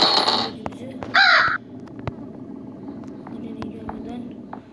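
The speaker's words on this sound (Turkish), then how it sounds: "burada bir karga var" A crow caws in the horror video game Granny: a couple of loud, harsh caws close by, set against low game ambience and faint clicks.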